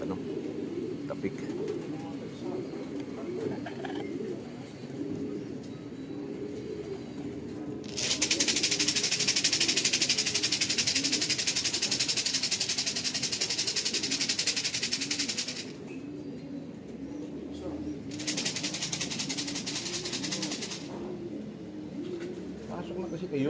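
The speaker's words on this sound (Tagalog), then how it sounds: "Yan talaga, hirap papasukin yung ibon ko." Racing pigeons returning to their loft coo in repeated soft, throaty phrases nearby, while someone speaks over them and bursts of hissing noise come and go.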